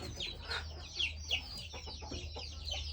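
Chickens cluck around a small farmyard that also keeps ducks, with repeated short calls over a low background hum and no talking.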